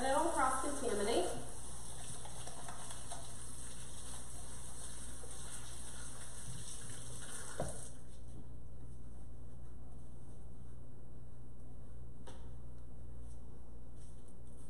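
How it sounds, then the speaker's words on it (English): Hands are rinsed under a running kitchen tap while an overnight turkey is being prepared: a steady, close rush of water for about eight seconds that then cuts off, leaving a much quieter room. "I'm gonna rinse my hands just to be sure that I don't cross-contaminate"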